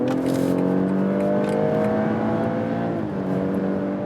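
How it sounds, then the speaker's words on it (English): A 2022 BMW X3 M40i with an inline six-cylinder engine pulling hard at full throttle in normal mode, heard from inside as a loud, steady rising engine drone. "even if you're in a normal mode and hit the throttle"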